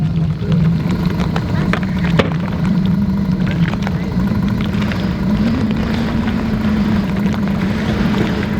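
A sailboat's engine runs steadily before being switched off while sailing near the island of Porquerolles in France, a continuous low drone that stays loud and even throughout, with faint voices in the background.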